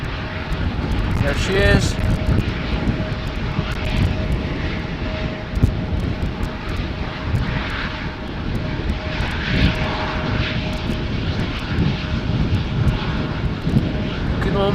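An Embraer jet taxies onto the runway at Schiphol Airport, a loud continuous engine roar and whine heard from about 50 to 75 meters away amid wind and outdoor noise, with someone speaking briefly.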